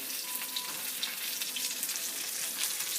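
Oxtails frying in canola oil in a pan, a steady dense sizzle with constant crackle and spatter, close and even throughout with no talk.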